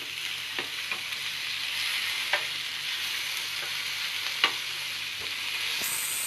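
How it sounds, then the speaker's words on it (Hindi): Chicken skewers sizzling in a pan over medium flame, a steady, moderately quiet hiss with a few isolated clicks as tongs turn them. "तो नाउ मेरा टोंग बहुत जरूरी है, इसको टर्न करते रहेंगे हम."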